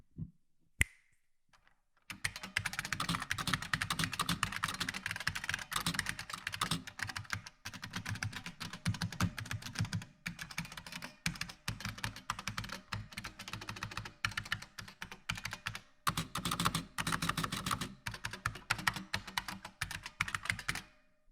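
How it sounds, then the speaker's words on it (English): A brand-new Model F104 buckling spring keyboard is typed on in rapid bursts of sharp, clacky keystrokes, close up and crisp, with brief pauses between runs and no one speaking. "Here is a typing test of the brand new Model F104 buckling spring keyboard."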